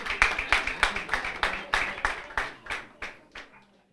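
An audience at a university moot court competition claps in a series of about a dozen distinct, evenly spaced bursts that thin out and fade toward the end, heard alone without talk.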